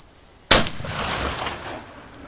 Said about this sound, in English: I'm gonna try to shoot it in the middle.